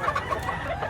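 A gamecock stag at a rooster market in Mantalungon, Cebu clucks in a quick run of short, close, moderately loud calls.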